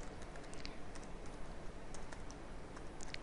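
Fast typing on a computer keyboard: a continuous patter of light, close key clicks over a steady background hiss, with no talking.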